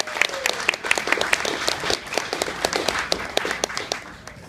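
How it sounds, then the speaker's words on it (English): A room full of people applauds at a public science talk, brisk distinct claps layered into a lively, uneven patter that stays strong for several seconds and eases slightly at the end. "let's all give Greg a big round of applause."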